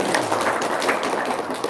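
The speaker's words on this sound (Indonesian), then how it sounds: "Tepuk tangan dong." Audience applause at an Indonesian religious talk, a dense steady patter of many hands clapping throughout, fairly loud with no voices on top.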